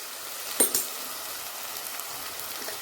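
Turmeric, red chilli powder and other ground spices sizzling softly in hot oil, a steady low fry with a couple of brief stirring knocks near the start.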